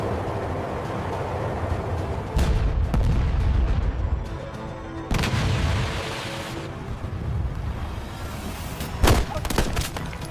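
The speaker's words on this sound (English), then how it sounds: "Under fire! Repeat, under fire." Heavy booms and crackling gunfire in a staged military battle scene, with several loud blasts that swell and fade over a dense rumbling background, some bursts sharper and closer than others, with no talking.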